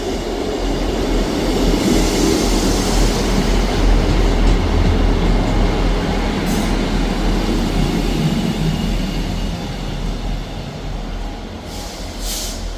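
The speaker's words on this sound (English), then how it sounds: "Departing out now is the 11:58 ScotRail service from Edinburgh Waverley to Cowdenbeath." A ScotRail passenger train pulls away from Edinburgh Gateway station with a loud, steady rumble and rattling wheels, continuous for the whole stretch with no voices.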